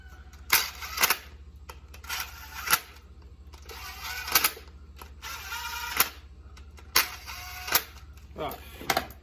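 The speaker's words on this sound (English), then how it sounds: "I got 25 foot-pounds on my torque wrench here, and we're gonna tighten it up" Bolts on a Kioti NX tractor being tightened with a torque wrench to 25 foot-pounds in a cross pattern: sharp repeated ratcheting clicks in short bursts, close by, over a steady low hum.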